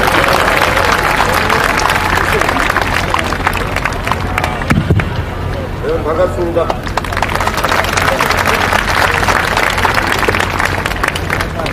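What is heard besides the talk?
audience applause welcoming party leader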